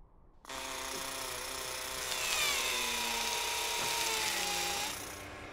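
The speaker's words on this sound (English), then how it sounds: "The drill on the arm allows us to grab some of that rock" A steady, whining Mars rover arm drill motor with a rising then falling pitch, running alone for several seconds before cutting off.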